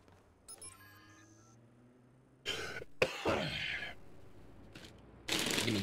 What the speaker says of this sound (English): I'm gonna pop a cough drop in my mouth so I can stop coughing into the microphone